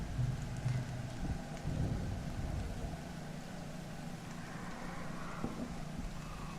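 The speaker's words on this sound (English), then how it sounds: "Oh no, it's playing rain sounds." Steady rain ambience from a video game, a continuous low wash of falling rain with faint rumbling underneath, playing on its own without talk.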